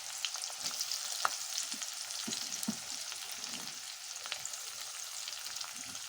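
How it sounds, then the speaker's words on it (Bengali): Chopped onions frying in hot oil for a spicy small-fish and eggplant curry, a steady close sizzle and crackle with occasional soft stirring, no voices. "তেল গরম হয়ে গেছে, এখন এতে দিয়ে দেব আমি পেঁয়াজ কুচি।"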